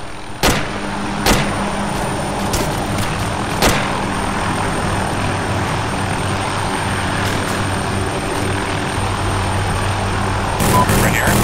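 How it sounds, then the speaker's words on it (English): Helicopter in a video game battle, its engine droning steadily and close throughout, with sharp gunfire cracks scattered over the rotor noise. "Here you enter the chopper"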